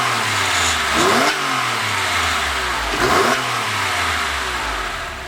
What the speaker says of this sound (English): Just want to give you a real taste of what a real flat 6 sounds like.